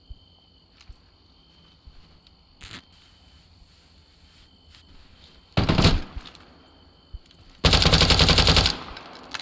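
Automatic gunfire in Deadside rattles in two loud rapid bursts, the second longer, after a few scattered single shots over a quiet outdoor backdrop with steady insect chirping.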